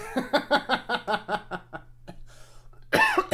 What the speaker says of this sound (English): What a great time to cough.